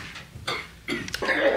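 A person coughs in a TV drama scene, a few rough, hacking bursts spread across a second and a half, close and fairly loud against a quiet room.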